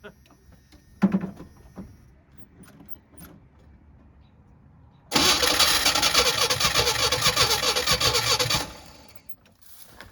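Engine of a 1990 Chevy truck cranking and trying to start, a loud churning burst lasting several seconds after some quiet clicks and faint handling noises, then cutting off.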